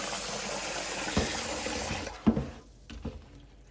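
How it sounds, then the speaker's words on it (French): Cold tap water runs onto rice being rinsed, a steady splashing gush that stops partway through, followed by a few wet clunks and sloshes. "c'est laver avec de l'eau froide. Rincer."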